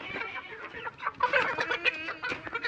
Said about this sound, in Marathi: कोंबड्या तर सगळ्या सोडल्यात मस्त पैकी बाहेर आता.